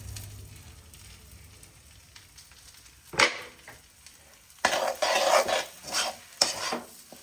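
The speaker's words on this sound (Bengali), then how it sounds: "ভালো করে একদম লাল লাল করে নেড়ে নেবো" Spices and bay leaf frying in ghee in a home pan, stirred with a utensil; soft sizzling grows into louder bursts of frying and scraping in the second half, with no voices.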